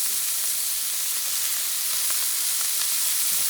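Beef tenderloin sears in a cast-iron pan with a steady, loud, broadband sizzle and occasional pops and crackles throughout, no voices.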